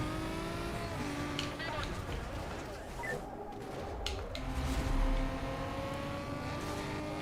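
A Lamborghini race car passes during a race in the video game Need for Speed Carbon, its engine roaring and revving over a constant din of racing engines, with a rising surge of engine noise midway.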